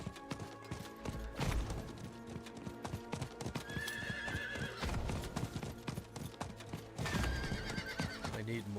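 Video game horse clopping along with steady, slightly clunky hoofbeats, broken by two loud neighs and whinnies, against a dense game soundtrack with no talking.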